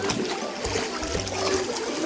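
Water flows and trickles steadily at a spring-fed swimming spot, a continuous splashing babble that stays close and even throughout.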